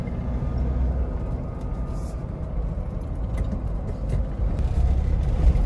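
Manual transmission car with a big-capacity engine accelerating in third gear, a low rumbling engine drone that builds steadily in loudness from inside the cabin, with faint road noise and no clear speech.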